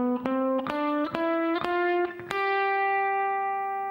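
Electric guitar in a rock style working up a Mixolydian mode scale from the fifth degree, several distinctly picked notes climbing steadily, then a final note held and fading; close and unaccompanied.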